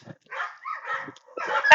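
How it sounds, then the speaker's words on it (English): Dogs bark and yip in a few quick bursts during an outdoor training session, close and fairly loud, with brief gaps between the barks. "we have a little bit of a dog barking thing going on over here"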